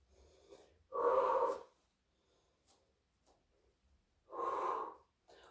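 Two strong, breathy exhalations during a Pilates exercise, a few seconds apart and close to the mic. Quiet pauses separate them.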